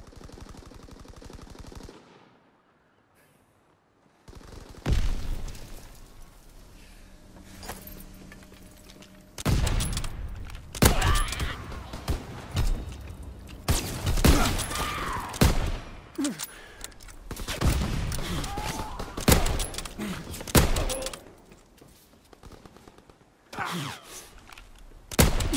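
Video-game World War II anti-aircraft fire from the battleship USS Texas: loud, dense bursts of rapid gunfire and booms that come in waves after a brief quiet start, with no talk.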